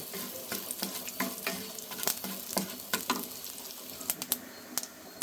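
Mustard seeds, urad and chana dal, one dried red chili, asafoetida and a little cumin frying in oil for a cluster bean poriyal, a soft sizzle punctuated by sharp irregular pops and crackles.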